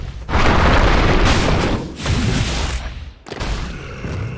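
Tower in Dota 2 taking heavy hits during an assault, loud booming explosive impacts in dense overlapping bursts, with a brief drop near the end before the blasts resume; no talk.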